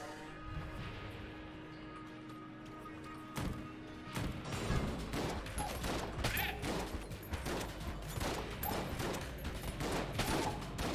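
Rapid gunfire and bullet impacts from the video game Enter the Gungeon, a dense continuous barrage of shots and crashes that grows louder and busier after the first few seconds, with game music underneath.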